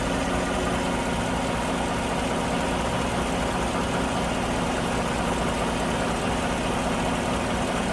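A 2015 GM truck's 5.3-liter V8 with a lean-running fault idles steadily, a close, continuous engine drone with no speech over it.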